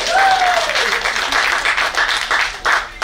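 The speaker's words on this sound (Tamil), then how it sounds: "நீங்களே ஒரு தடவை கைத்தட்டுங்க" Stage-event audience clapping on request, a full, close round of applause that runs the whole moment, with a brief tonal whistle near the start.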